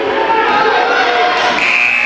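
At a girls' high school basketball game, Smith Center Lady Red against Superior Lady Wildcats, a loud sustained buzzer sounds to end the first quarter over a noisy gym crowd, its tone shifting higher toward the end.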